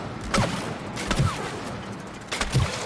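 Shooting in the video game It Takes Two: three separate sharp shots about a second apart, each followed by a short whooshing tail, moderately loud with steady background game noise.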